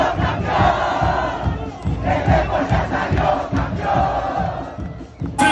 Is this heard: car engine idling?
no